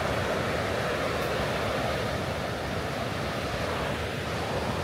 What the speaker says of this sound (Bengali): এইখান দিয়ে পুরো জলটা পুরো বয়ে যাচ্ছে নিচের দিক দিয়ে।